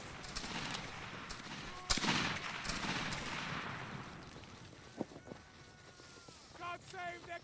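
A rifle volley crackles across a Roblox Waterloo battlefield as line infantry fire on command, with a sharp burst near two seconds and scattered later shots at mid distance, over wind and shouting voices.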